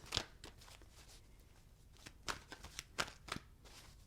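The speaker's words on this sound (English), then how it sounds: "I'm going to shuffle the cards." A deck of tarot cards being shuffled by hand, with repeated quick riffling bursts and soft card slaps at an uneven rhythm, close and fairly quiet, with no talking.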